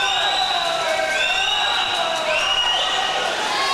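Milligan fans in an indoor pool hall at a swimming championship, a loud sustained wash of crowd cheering and whistling with shrill tones rising over it, while an announcer talks throughout.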